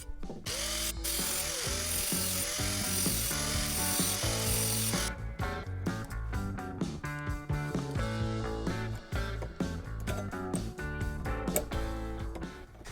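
Nuts and bolts being tightened onto short cut pieces of threaded rod for a DIY canopy, heard as close, steady ratcheting clicks with metallic grinding and rubbing that run unbroken throughout.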